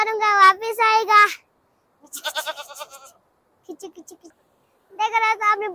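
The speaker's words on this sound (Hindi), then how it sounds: "देख रहा था अपने बच्चों को बुलाता है, बकरी बहुत परेशान हुआ है।" A distressed village goat bleats repeatedly as it calls for its kids, giving loud wavering cries in several bursts separated by short silences, close by and with no talk over it.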